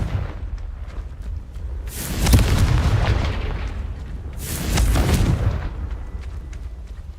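Confringo spell explosions in the video game Hogwarts Legacy, two heavy booming blasts a couple of seconds apart, each with a long rumbling tail over a noisy background of battle sounds.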